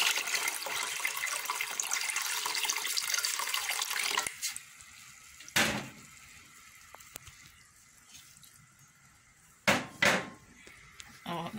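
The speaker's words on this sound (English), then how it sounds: "So let's go ahead and add some water." Water runs from a kitchen tap as it is added for a beetroot zobo drink, a bright steady hiss for about four seconds, followed by quieter clinks and knocks of pots and utensils.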